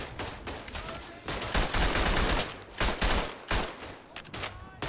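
Machine gun fire in the World War I shooter Verdun comes in loud, close bursts of rapid shots separated by short gaps, with battlefield noise beneath and no voices.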